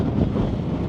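Strong, cold wind buffets the microphone on a Scottish cliff top, a dense, steady roar with gusty fluctuations and no voices.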